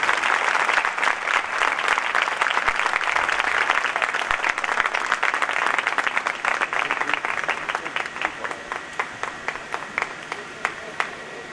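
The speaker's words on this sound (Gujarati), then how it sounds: "એક જ ધારી જોરદાર તાળીઓથી આપણે શ્રીજી સ્વામીને આજે વધાવી લઈએ" A temple audience at a Swaminarayan mandir gives a burst of loud, dense applause that gradually thins into scattered individual claps toward the end.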